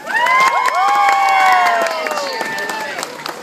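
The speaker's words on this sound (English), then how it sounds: "Let's start off with a round of applause." An aquarium show crowd in Vancouver cheers and claps loudly, with high excited shouts and whistles rising over steady applause that gradually eases off.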